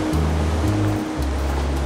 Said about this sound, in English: The waves are huge here